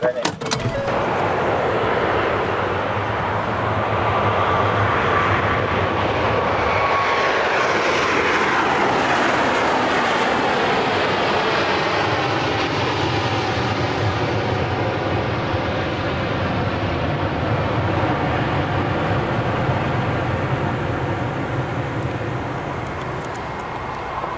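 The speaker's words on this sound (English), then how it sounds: "looking at the plane coming in." A fixed-wing airplane drones loudly overhead as it comes in for an emergency landing at LAX, a sustained roaring engine with a shifting pitch, voices faintly underneath.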